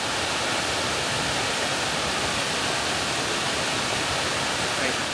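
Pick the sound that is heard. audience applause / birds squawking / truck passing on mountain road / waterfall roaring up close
waterfall roaring up close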